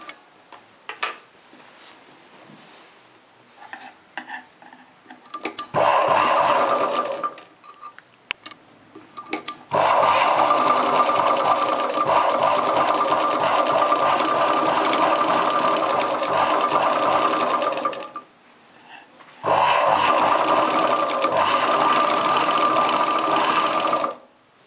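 A sewing machine stitches a chudidar top in three long bursts of rapid, even whirring, each starting and stopping abruptly with brief quiet gaps and soft handling between.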